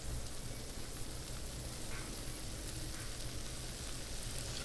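Steady, dense sizzling of sausages frying in a pan, a continuous crackle with no pauses, close and fairly loud.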